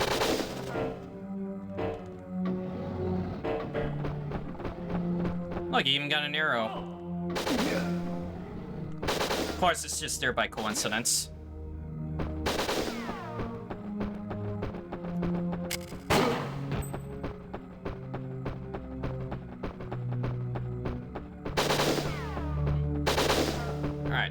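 Rapid bursts of gunfire from the N64 action shooter Winback, repeated volleys and booms mixed with game music and effects, under someone talking throughout.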